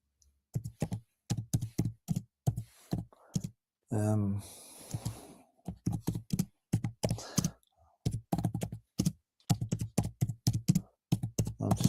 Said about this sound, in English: just typing a message here.